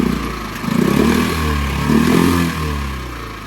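A Tohatsu 6HP outboard motor on an inflatable boat runs close by with a steady buzzing drone that swells twice in brief revs, with a slight mechanical clatter.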